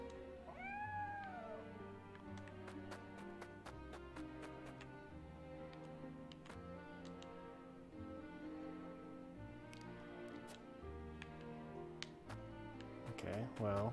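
A cat in the video game Triangle Strategy gives a couple of soft meows early on over quiet looping music with light ticking notes.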